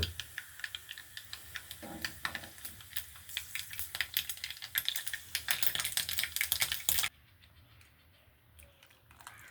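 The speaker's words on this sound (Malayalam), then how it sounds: "എണ്ണ ചൂടാകുമ്പോൾ കടുക് പൊട്ടും പൊട്ടിക്കഴിയുമ്പോൾ" Mustard seeds spluttering in hot coconut oil while tempering for rasam: a dense run of sharp crackling pops that builds for about seven seconds, then cuts off abruptly, leaving only a faint oil hiss. No voices.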